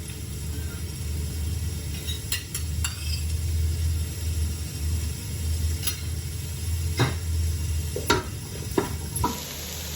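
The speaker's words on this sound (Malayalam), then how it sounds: "ഇതിലേക്ക് ഇനി നമുക്ക് നമ്മൾ അരിഞ്ഞ് വെച്ചിരിക്കുന്ന ഈ വലിയ ഉള്ളി ചേർക്കാം" Chopped big onions sautéing in oil for a Thalassery dum biryani, a steady low sizzle with occasional sharp clinks of a spoon against the pan scattered throughout, close and continuous with no talking.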